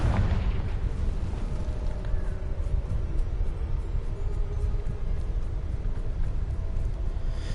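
A Confringo fire spell blasts in Hogwarts Legacy, a dense rumbling roar of explosion and debris that holds loud and steady throughout, with no voices over it.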